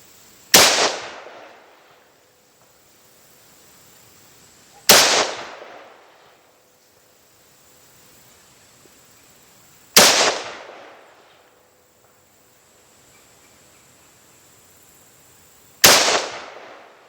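Four sharp, loud rifle shots from a Mini 14 firing 55 grain ammunition, spaced roughly five seconds apart, each followed by a short echoing decay outdoors.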